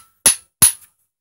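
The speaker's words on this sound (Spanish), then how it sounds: "Yo en este caso lo voy a golpear con una maza." Two sharp metallic strikes of a sledgehammer on a copper refrigeration pipe being expanded, about a third of a second apart, each a loud clang with a brief ring, otherwise quiet.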